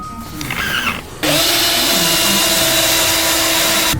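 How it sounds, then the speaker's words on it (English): A power drill bores holes in a car's underside to mount side skirts, whining up sharply after a short pause and holding a loud, steady high-pitched spin. "Timmy the Tool Man Taylor, is going to drill hard"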